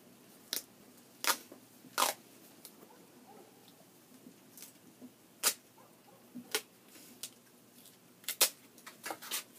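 Scissors snip through strips of duct tape while arrow fletching is made, sharp isolated cuts spaced irregularly and close up over a quiet background, with no voices.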